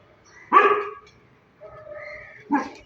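A street dog barks out on the road: two sharp, loud barks about two seconds apart, with a softer whining or yelping tone between them, fairly close and without voices.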